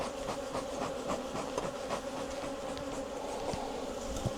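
Honey bees buzz steadily inside an open hive during a frame inspection, a dense, continuous drone with close passing buzzes from individual bees, loud and unbroken throughout.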